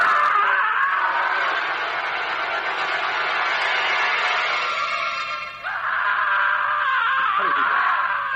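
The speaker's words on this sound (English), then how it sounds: "Listen, a scream from the window." A long, sustained scream from a window rings out in an old radio drama, loud and strained, wavering in pitch and dipping briefly before picking up again.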